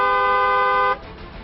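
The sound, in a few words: vehicle horn honking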